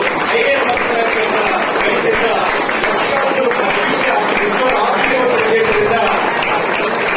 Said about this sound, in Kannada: ಚಪ್ಪಾಳೆಗಳ ಮೂಲಕ ಅವರಿಗೆ ವೇದಿಕೆಗೆ ಬರಮಾಡಿಕೊಡೋದು